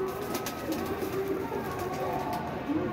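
Pigeons kept as a hobby, bakery-style birds, coo softly and steadily throughout, with a low droning murmur and a constant hiss beneath them.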